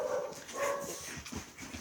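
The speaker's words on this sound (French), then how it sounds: "Ça, c'est mes chiens." Several pet dogs yip and whine in excited bursts at moderate distance. The sound is fairly faint, with no talk over it.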